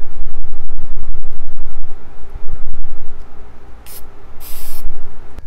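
Primer sprays onto small shiny metal parts of a British 1275 racing engine: a rapid string of short, close aerosol bursts, then a few longer hissing sprays, loud and with no voices.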